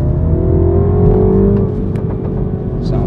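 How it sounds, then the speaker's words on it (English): A Mini John Cooper Works engine revs hard under second-gear acceleration, a deep steady exhaust drone with rising harmonics, loud and close, easing slightly partway through. "Sounds good, you can hear the exhaust going again."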